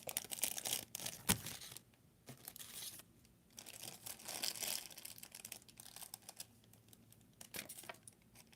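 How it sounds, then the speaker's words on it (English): Scissors or a blade cutting through plastic for an eco-brick, close and crisp, with irregular crinkling snips and tearing bursts spread over several seconds and no talking. "I'm gonna try and cut this plastic."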